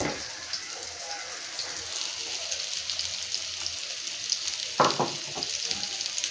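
Winter vegetable fritters fry in a pan over a medium flame with a steady, close, crackling sizzle. A couple of sharper scraping clatters from stirring stand out near the end.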